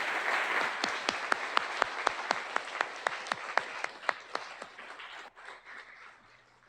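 Applause from a conference audience at a Drupal talk, dense steady clapping with sharp individual claps cutting through, fading out near the end.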